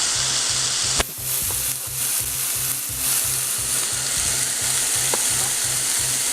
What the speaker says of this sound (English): I'm just cooking it half at a time just to make sure everything cooks.